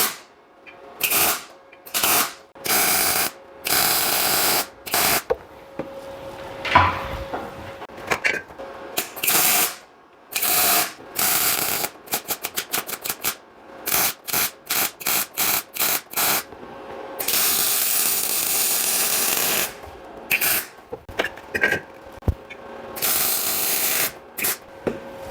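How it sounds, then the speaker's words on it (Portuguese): A Lynus LIM 160 Power MIG welder running with shielding gas crackles and buzzes in repeated short bursts, loud hissing sputters separated by brief silences, with a few longer continuous runs. "vamos soldar aqui, vocês vão ver que beleza que é para soldar com gás"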